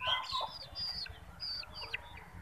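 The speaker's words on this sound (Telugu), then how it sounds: "లోపల కోళ్ళు వెళ్ళిపోయినాయి." Village chickens cluck softly near a coop, several short rising calls scattered over quiet background rumble.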